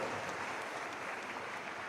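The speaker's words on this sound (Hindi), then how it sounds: "उनका स्वागत करें एक बार तालियों की गड़गड़ाहट से" Public audience in Bhopal applauding Chief Minister Mohan Yadav at a Guru Purnima event, a soft, distant, steady crackle of many hands clapping with no talk.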